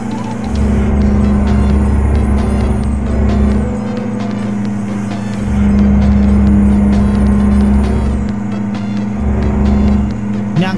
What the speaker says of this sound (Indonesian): Sangat kencang sekali nih truknya nih.